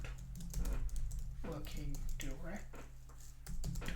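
Quick bursts of clicks from typing on a computer keyboard, close and clear, heard under someone speaking.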